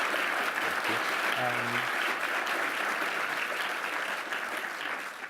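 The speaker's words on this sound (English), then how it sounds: "please, a big round of applause to Musement" An audience at an interview event gives a big round of applause, dense crowd clapping that runs steadily for several seconds and eases slightly at the close, with a brief voice under it early on.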